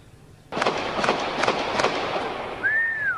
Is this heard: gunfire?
yes